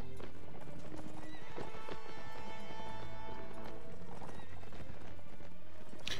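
Steady clip-clop of horse hooves at a quick rhythm, with a horse whinnying, against a musical game-like background, from the video game Mount & Blade: Warband.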